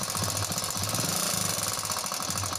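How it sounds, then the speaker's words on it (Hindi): A 100cc motorcycle engine with a noisy timing chain idles with a rapid, metallic rattling tick, loud and steady throughout, no voices. "चलिए इस बाइक को स्टार्ट करके मैं आपको सबसे पहले इसकी साउंड"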